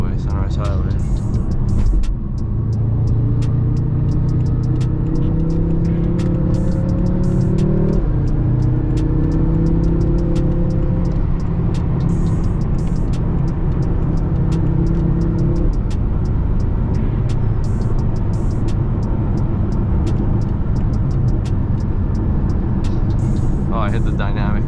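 A BMW M6 accelerates onto a freeway, its engine note climbing through a couple of gear changes before settling into a steady cruising road and wind roar, with someone talking throughout.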